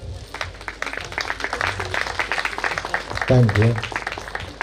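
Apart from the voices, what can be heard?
applause at a wedding felicitation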